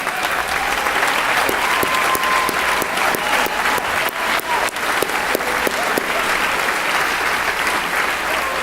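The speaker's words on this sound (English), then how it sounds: "would you please stand and let us applaud you?" A large standing audience at an Ignite Lincoln event applauds steadily and loudly, a dense wash of clapping that holds at full strength from start to finish.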